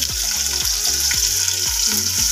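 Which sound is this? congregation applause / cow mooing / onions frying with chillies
onions frying with chillies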